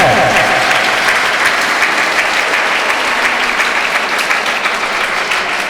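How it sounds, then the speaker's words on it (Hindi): Audience applause fills a school Independence Day cultural program, a dense, steady wash of many hands clapping at close range, loud and continuous throughout with faint voices mixed in. "तालियां बजाइए, कंजूसी नहीं करनी है"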